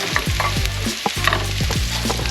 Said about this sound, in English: We want to get the mushrooms nice and caramelized.